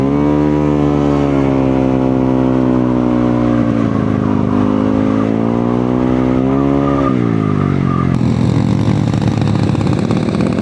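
A revving vehicle with a raised exhaust pipe aimed skyward roars loudly and steadily nearby, its engine pitch climbing and falling through several revs before a rougher, harsher burst near the end.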